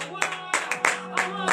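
A church congregation at morning prayer claps in praise, bright rhythmic handclaps landing in a steady beat with faint voices underneath.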